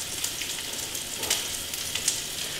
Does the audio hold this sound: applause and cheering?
no